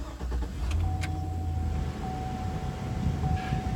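A pickup truck's engine is started and settles into a low, steady idle that runs on through the rest of the stretch, heard from close by with a few faint clicks early on.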